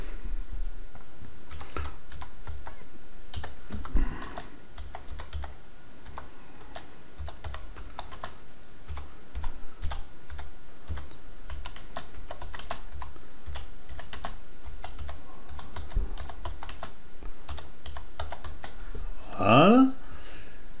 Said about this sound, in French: Je tape le corps de l'article.